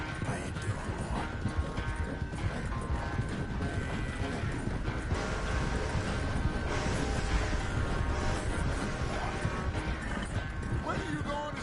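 Horse hooves clip-clop steadily in a PS4 video game, a continuous rhythmic trotting under game noise and clanking mechanisms, with a person talking over it.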